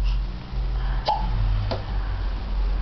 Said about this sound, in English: With the hiccups, of course.